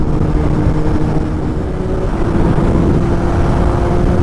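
Kawasaki ZX10R sportbike cruising along a straight open road, its engine a steady, loud drone with constant wind rush and no pauses throughout.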